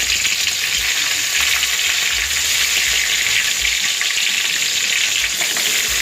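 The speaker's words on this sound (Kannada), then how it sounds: "ಜೀರಿಗೆ, ಸಾಸಿವೆ, ಒಗ್ಗರಣೆ ಹಾಕ್ತಾಯಿದ್ದೀನಿ. ಎಣ್ಣೆ ಕಾದ್ಮೇಲೆ ಈ ಥರ ಚಟ್ಪಟ್ ಅಂತ ಸಿಡಿಯುತ್ತೆ" Mustard and cumin seeds temper in hot oil, a loud, dense, continuous crackling sizzle heard up close without pause or speech.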